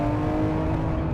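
A 1000 HP R34 Skyline GT-R accelerating at half throttle toward about 7,500 RPM, a loud, dense, sustained engine roar heard close up with no talk over it.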